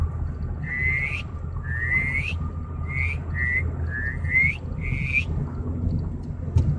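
A person imitates a duck call, giving a series of short rising whistled calls in a quick irregular rhythm over a low background rumble.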